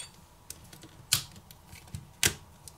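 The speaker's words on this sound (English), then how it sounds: "let's also remove the bottom plastic cover as well that houses the speaker assembly" Plastic clicks and snaps as the bottom plastic speaker cover is pried off a Samsung Galaxy Note 10 during a teardown, with two sharp louder cracks among lighter ticks.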